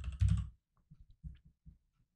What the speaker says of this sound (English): So I'm gonna type in youtube.com/dopemotions.